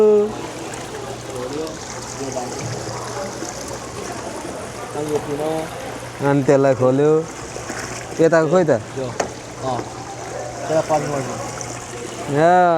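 Water slowly filling a model canal lock at an aquarium in Duluth, Minnesota, a steady trickling hiss running beneath people talking throughout.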